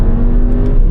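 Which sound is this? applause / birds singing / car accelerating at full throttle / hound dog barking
car accelerating at full throttle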